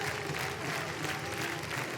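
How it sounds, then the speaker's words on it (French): Sustained standing applause from a Cannes festival audience for a film, a dense, even wash of many clapping hands heard from some distance, steady and unbroken throughout. "le public a applaudi debout"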